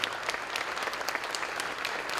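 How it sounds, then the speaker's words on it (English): An audience at a school recognition ceremony claps for student award winners, a continuous, fairly distant crackle of many hands with scattered sharper individual claps and no talking over it. "let's have one more big round of applause for all of our Do the Right Thing student award winners"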